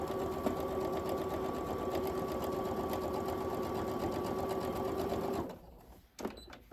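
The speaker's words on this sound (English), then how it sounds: "just sew right along this edge to hold it in place. Just a basting stitch." A sewing machine runs a continuous basting stitch along a fabric edge while a machine cover is being made, humming in a steady, near and even whir for about five seconds before stopping, followed by a few faint handling clicks.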